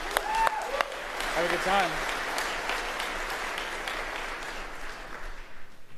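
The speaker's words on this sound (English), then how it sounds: "Let's give Joss and Marina a big round of applause." A conference audience gives a sustained round of applause after a speaker's introduction, an even wash of clapping that carries on alone after a brief spoken line near the start.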